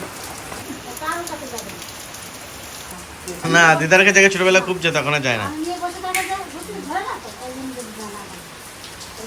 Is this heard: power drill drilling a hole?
no